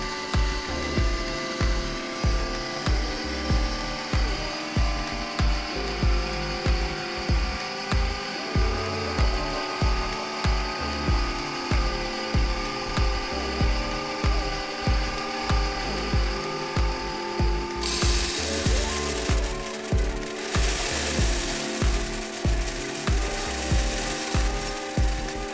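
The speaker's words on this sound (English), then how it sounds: "Conditioned grain really puts a lot of stress on the drill." A drill powers a grain mill chewing through conditioned grain at slow speed, with a steady laboring drone and a regular rhythmic chugging pulse about twice per second, close and continuous throughout.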